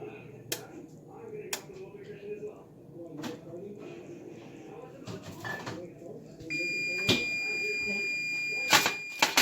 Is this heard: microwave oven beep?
yes